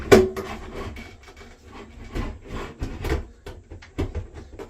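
A bathroom ceiling fan motor being slid up into its housing: close scraping and rubbing of metal and plastic in uneven bursts, with soft knocks as the motor moves into place.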